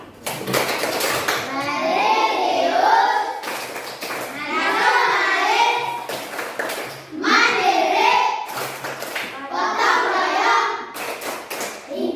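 Schoolchildren in a primary school class in East Manggarai, NTT, perform a rhythmic Tepuk PPK clap routine, bursts of sharp claps alternating with chanted lines in repeating cycles, loud and close.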